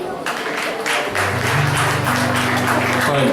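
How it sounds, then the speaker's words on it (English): An audience at an evening entertainment show gives steady applause for performer JD, a continuous wash of clapping over a low, sustained musical hum. "another big round of applause for JD"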